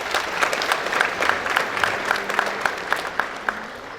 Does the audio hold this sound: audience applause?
yes